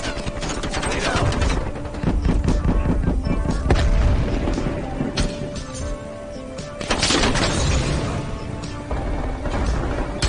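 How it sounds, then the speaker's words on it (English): Grenade blast and surrounding combat in Call of Duty: Black Ops Cold War, with loud booms and crashing hits over sustained gunfire and mechanical clatter, plus a burst near seven seconds, and dense battle noise throughout. "Grenade out."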